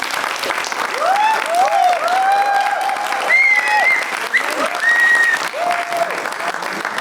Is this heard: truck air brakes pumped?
no